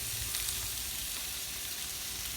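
Steaks fry loudly in a hot pan as they are flipped and butter is added, giving a dense, continuous, close-up sizzle with no talking.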